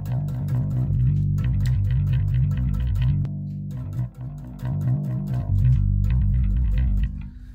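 A distorted, effects-laden Fender bass guitar riff with a clamp on its headstock plays continuously and loudly, thick low notes with gritty overtones and a brief dip midway.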